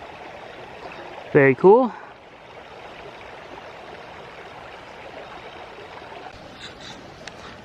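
Flowing creek in British Columbia during a rockhounding outing for agates, a steady soft rushing of water throughout, with a man's short spoken remark breaking in near the start.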